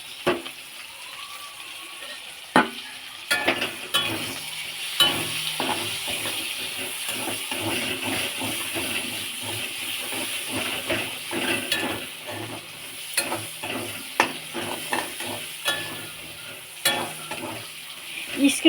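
Onion and chicken pieces with the skin on frying in plenty of oil, a steady sizzle with frequent scraping and stirring clatter from a spatula in the pan, close and continuous with no talk.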